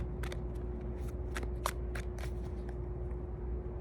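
Tarot cards are shuffled by hand, giving quick riffling flutters and soft snaps at moderate loudness. A steady background hum runs underneath, and no speech is heard.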